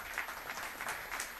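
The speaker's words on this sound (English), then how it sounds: "Give her a round of applause, Linda." Audience at a TDA summit conference applauding a returning founder, steady clapping across the room at moderate level with no talk over it.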